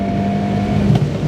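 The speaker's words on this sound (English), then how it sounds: "Into fourth, massive crack on the upshift." A Fiat Abarth 124 Spider's engine drones loudly under hard acceleration on a track, then a brief sharp crack marks the upshift into fourth gear as the engine note drops.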